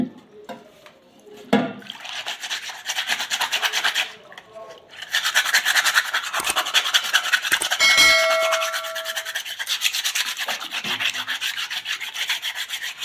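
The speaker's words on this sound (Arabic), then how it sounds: "فهتصنفر عادي." Sandpaper, 120 grit, rubbed by hand over a polyester antique piece to remove its odor, giving steady close rasping strokes with a few clinks and knocks between them.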